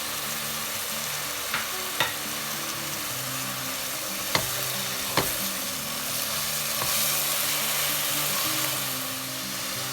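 Grated bottle gourd for halwa sizzles in a pan, a steady close frying hiss broken by a few sharp clicks and scrapes of a spoon stirring, no voices.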